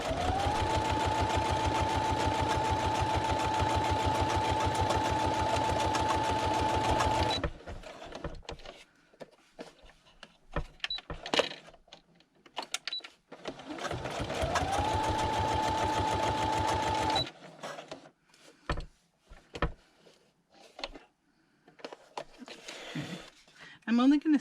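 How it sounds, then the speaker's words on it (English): A sewing machine runs in two long steady bursts of rapid straight stitching, with quiet handling noises and fabric shuffling in the pause between. "Sewing machine."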